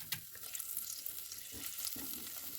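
Masala for a mackerel fish curry frying in a pan while being mixed, a soft steady sizzle with low scraping strokes of the spatula, close but fairly quiet, no speech.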